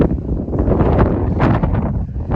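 Strong gusting wind high up on the Appalachian Trail buffets the microphone, a loud continuous roar with rough, uneven surges throughout.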